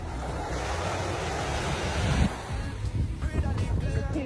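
Surf washes onto a beach in a steady, loud roar, with strong wind buffeting the microphone throughout.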